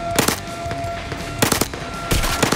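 Bursts of gunfire in the VR shooter ZeroCaliber, three loud clusters of rapid sharp shots separated by brief pauses, close and with no talking.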